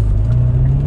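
A 2019 Hyundai Veloster N engine gives a loud, close, low rumble that holds steady through a short moment of acceleration. No voice is heard.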